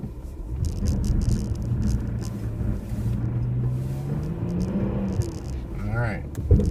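Jeep Cherokee Trailhawk on level ground in four to five inches of snow, engine droning steadily as the wheels spin and whine, a low continuous rumble with rising tones near the end and voices talking over it.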